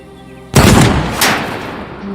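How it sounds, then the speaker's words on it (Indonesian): Gunfire during shooting practice in an action film: one loud, close shot hits suddenly, with a booming reverberant tail and a second, softer crack following within a second over the soundtrack's background. "Saat Red Senior sedang berlatih menembak"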